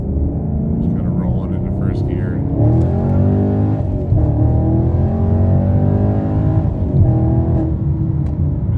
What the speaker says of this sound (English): Just kind of rolling into first gear.